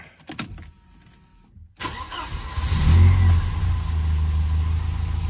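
A car engine cranks and catches after a few clicks and a pause, then revs up loudly and settles into a steady, close running rumble.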